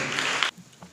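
Audience applause at a church sermon, a short burst of close clapping that cuts off after half a second, leaving faint room noise.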